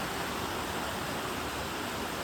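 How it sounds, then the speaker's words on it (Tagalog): A small stream flowing past rocks near a footbridge at Punta Bella in Hermosa, Bataan makes a steady, even rush of water, close and constant with no voices over it. "Ito yung Batis, diba?"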